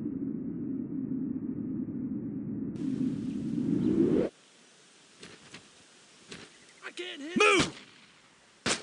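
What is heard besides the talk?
gunfire in Brothers In Arms: Road To Hill 30, video game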